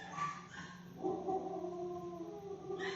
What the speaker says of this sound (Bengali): কোথায় কটা কুকুর ঝগড়া করছে